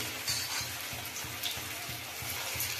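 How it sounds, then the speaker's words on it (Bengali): Gram flour coated soybean pieces deep fry in a pan of hot oil, giving a steady, soft bubbling sizzle with faint pulsing, close and fairly quiet with no talking. "ছাঁকা তেলে এগুলোকে একটা একটা করে ভেজে নেব"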